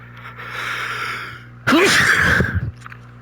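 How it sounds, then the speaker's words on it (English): A single loud close sneeze bursts out after a quiet stretch of background hum, with a sharp explosive onset and a breathy tail lasting about a second. "Just sneezed."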